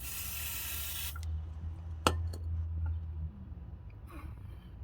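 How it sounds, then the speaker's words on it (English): A loud hiss of PB Blaster penetrating oil sprayed onto strut bolts of a Nissan Sentra for about a second, followed by a few sharp clicks and clatters against a low steady hum. "Spray a little PB blaster on there."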